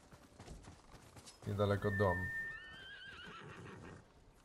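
A horse in the video game Ghost of Tsushima lets out a loud, rising whinny mid-clip, with hooves clopping faintly around it and someone talking quietly before and after.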